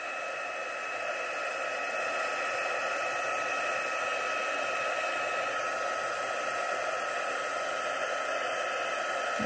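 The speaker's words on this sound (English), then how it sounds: "I'm going to take my heat and emboss tool, and we'll just speed up the drying process a little bit here" A heat embossing tool blows hot air over white stamping ink to dry it, a steady, even rushing hiss that holds at a constant level throughout with no talking.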